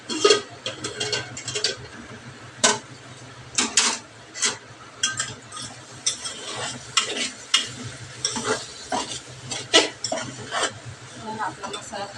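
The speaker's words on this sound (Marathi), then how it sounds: "आपला मसाला तळून बघा" Spice masala frying in a pan for khichdi in a home kitchen, with repeated clinks and scrapes of a spoon stirring against the pan over a low sizzle, irregular and close.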